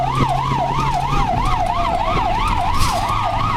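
An ambulance siren in Europe wails in a steady rising-and-falling two-tone cycle, loud and close throughout, over the low rumble of traffic and a car interior.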